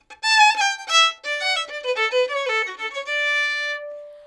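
A fiddle plays a bluegrass walkup kickoff in D using a lower neighbor note, a brisk sequence of bowed notes rising to a held, ringing final note. The instrument is close and alone.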